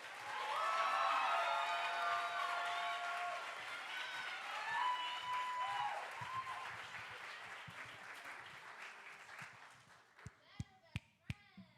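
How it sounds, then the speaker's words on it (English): Audience applause for a poet at the Louder Than A Bomb DMV 2018 youth poetry slam finals on the Millennium Stage, a loud full-room ovation that thins out toward the end into a few sharp, separate claps. "please start clapping now for Wakefield"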